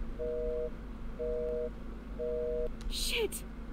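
Three evenly spaced beeps of a telephone busy tone sound after the line is cut in the horror game BloodWash, clear and steady, followed by a brief sharp electronic swoosh near the end.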